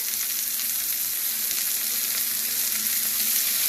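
Eggplant and potato pieces fry with salt and turmeric in hot oil, a close, steady hissing sizzle with a faint low hum beneath and no break or talk across the short stretch.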